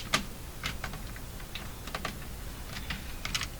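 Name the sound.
cat walking on a computer keyboard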